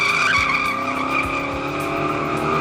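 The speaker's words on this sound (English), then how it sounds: "It still does a one-wheel peel" A 420-horsepower El Camino with a converter and Gearstar transmission spins one rear tire in a one-wheel peel, loud sustained tire squeal over a steady engine roar, close and continuous with no voices.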